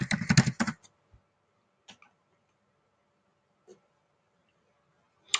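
Quick burst of keystrokes on a computer keyboard, close and crisp, followed by a few isolated soft clicks spread across a quiet stretch with no talk.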